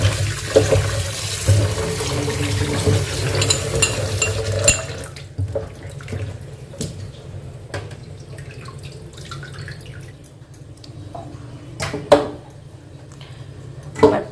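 Running tap water washing pieces of mutton shank in a kitchen, a steady close splash that eases off midway into intermittent drips, knocks and handling sounds of meat and utensils.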